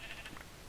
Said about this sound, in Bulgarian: Тук е пълно с овце.